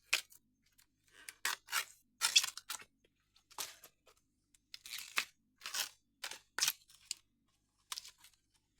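Food is cut before peeling in a series of separate crisp, crunchy snips and slices. The cuts come at irregular intervals with silence between them, close by and with no talking.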